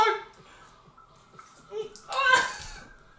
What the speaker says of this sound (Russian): Пошла вода.